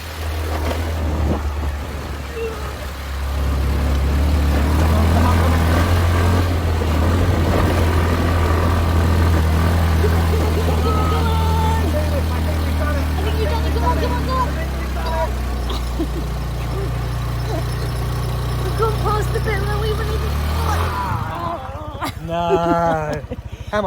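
A car engine drones steadily at low pitch, holding high revs under strain climbing a steep hill at the Ceking rice terraces in Bali, with voices talking over it before it cuts off near the end.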